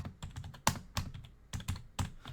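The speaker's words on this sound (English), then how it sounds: "I actually like typing on this" A new computer keyboard on a freshly set-up gaming rig is typed on in a close, crisp run of clacky keystrokes with small pauses between bursts.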